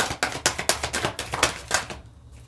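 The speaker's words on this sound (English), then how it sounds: "I'm going to put those back and shuffle again." Tarot cards being shuffled by hand in a repeated riffle, about a dozen quick crisp papery bursts in steady rhythm, close and moderately loud, ending in quiet.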